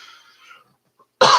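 A single sharp cough, loud and close, at the end of a short stretch of quiet talk.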